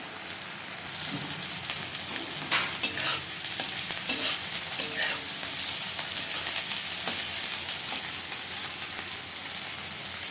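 Onions frying in a pan for chowmein while being stirred, a steady close sizzle with scraping stir strokes throughout.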